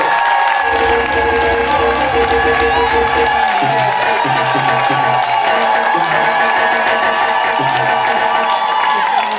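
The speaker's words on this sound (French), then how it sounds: "La monogamie, applaudissez pour lui, s'il vous plaît." Wedding guests clap, cheer and whoop for the groom during the civil ceremony, a loud, dense crowd roar with shouts mixed in and steady applause throughout, over a low musical hum.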